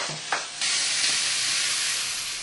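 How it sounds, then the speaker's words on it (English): Minced lamb hits a hot pan and fries on high heat, breaking into a loud, steady hiss and sizzle after a brief clatter, close and continuous. "we're going to fry that on a high heat for about 4 minutes until we've really got some nice brown bits in there"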